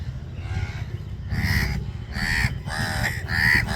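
Several crows caw loudly on a beach at Varsoli, with repeated harsh calls in bursts that overlap each other above a low background rumble.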